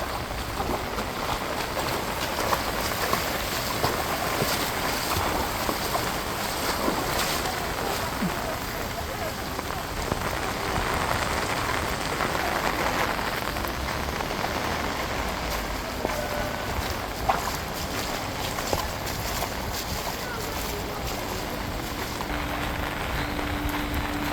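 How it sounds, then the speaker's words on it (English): A car churns through deep floodwater on a street after extreme rainfall, with continuous splashing and sloshing rushing around it for the whole stretch. "The car making its way through the river."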